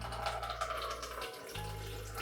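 Water runs from a tap into a protein shaker bottle in a steady, gentle stream, close by. A low hum drops out briefly partway through while the water keeps flowing.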